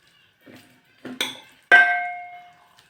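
Cooked wheat food being scooped into a metal pot with ghee, a few separate metallic clinks and scrapes, the last a bright ringing clang that fades out, no speech.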